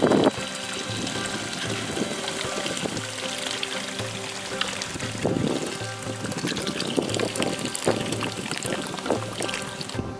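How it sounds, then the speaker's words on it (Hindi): Filtered potli spice broth poured into a pot of goat leg paya soup that has boiled for two hours, heard as a soft, fairly faint stream of trickling and splashing liquid with occasional light clatters. "अब इसमें हम लोग पोटली मसाला जो प्रिपेयर करके रखे थे उसको फिल्टर करके डालेंगे।"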